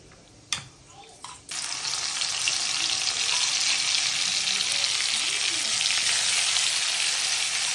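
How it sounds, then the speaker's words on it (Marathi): Crushed chili and garlic fry with cumin in hot oil for a Marathi-style brinjal bharit, a loud steady sizzle that starts after a couple of brief knocks and runs on unbroken, close and alone. "कुटलेली मिरची, लसूण आणि ते पण परतून घेऊ."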